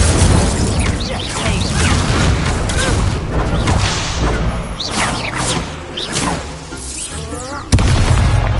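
Incendio fire spells cast in Hogwarts Legacy combat: dense, loud whooshing bursts and booms rolling over one another throughout, with a sharp hit near the end.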